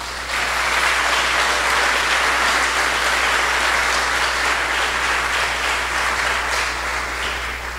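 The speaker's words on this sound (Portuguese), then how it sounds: "Você pode aplaudir Jesus?" A church congregation claps for Jesus during a sermon, loud, dense applause holding steady throughout, with a constant low electrical hum underneath.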